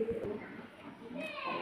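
Pigeons for sale at a pigeon market in Beldanga coo softly and repeatedly, the low calls mixed with nearby talk and faint children's voices.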